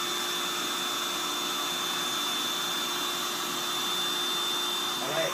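An electric air pump inflates an inflatable guest mattress with a steady, loud, continuous whirring rush of air that holds evenly from start to end.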